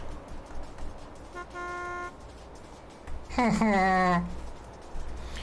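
Truck horns blare in a truck simulator game with a Scania 12x4 heavy hauler: a short steady toot first, then a louder, longer blast that bends downward in pitch, set against a low engine rumble.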